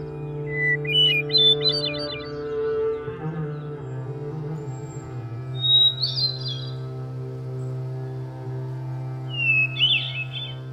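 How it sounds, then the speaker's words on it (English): Several short, high, fluting hermit thrush song phrases ring out, spaced apart, over a steady low droning hum. "I love the hermit thrush too."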